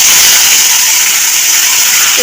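Chopped onion and green chilli sizzle in very hot oil in a wok, heard while an egg curry is cooked: a loud, close, steady frying hiss that runs unbroken through the whole short stretch, with no voices over it.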